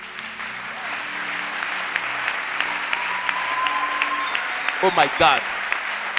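A church congregation applauds throughout, a continuous wash of clapping at moderate distance, with a voice exclaiming briefly near the end.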